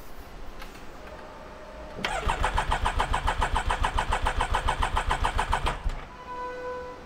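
A Can-Am X3 side-by-side engine cranks without catching, a fast, even rhythmic churning of the starter for about four seconds, close and loud, then stops, with faint background noise before and after.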